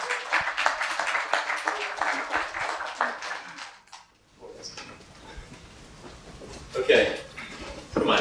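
An audience at a music technology meetup claps in a burst of applause for the first few seconds, which dies out, followed by scattered room noise and people talking.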